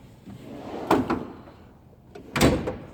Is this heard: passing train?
no